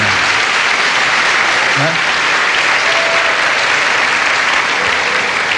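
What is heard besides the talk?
audience applause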